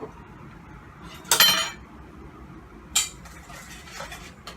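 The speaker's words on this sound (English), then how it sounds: "I'm now going to go ahead and cream my butter with my 2 sugars" A whisk knocks against a mixing bowl while butter is creamed with two sugars for hot chocolate cookie cups, giving two sharp, separate metallic clinks over a quiet kitchen background.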